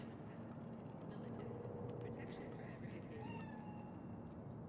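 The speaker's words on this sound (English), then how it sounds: "It's a cat like any other." A cat meows faintly in the video game Cyberpunk 2077, a few thin drawn-out cries buried under a steady city rumble and ambient hum.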